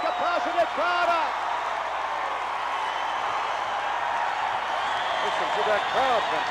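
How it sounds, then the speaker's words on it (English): A capacity wrestling arena crowd roars and claps steadily for Putski, a dense wall of cheering, with commentators' voices heard briefly over the noise. "Listen to that crowd, Vince. Listen to it."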